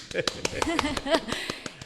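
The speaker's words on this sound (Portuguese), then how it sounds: "com um aplauso para a Ilustre" A podcast studio audience gives a brief round of applause, a handful of sharp, close hand claps spaced out over under two seconds, with a host's voice speaking over them.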